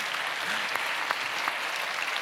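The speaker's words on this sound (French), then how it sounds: "On peut les applaudir." An audience at a round-table conference applauds in steady, even clapping throughout, a dense moderately loud patter with no voices over it.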